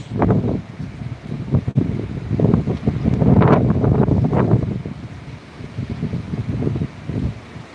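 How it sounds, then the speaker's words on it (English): Light wind blowing through palm trees on a stormy coast, gusty rushing and buffeting against the microphone, loud and close, with a faint roar of surf beneath. "See, that's a light wind on the palm trees."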